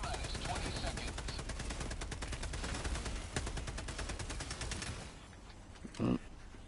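Rapid automatic gunfire in the video game Helldivers 2, a dense sustained burst of shots for about five seconds that cuts off abruptly, followed by a single brief thump.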